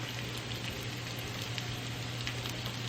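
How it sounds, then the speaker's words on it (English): Beef pieces searing in oil in a skillet for a coconut curry, a steady, even sizzle and crackle throughout, moderately quiet with a faint low hum underneath and no talking. "We are going to sear our meat."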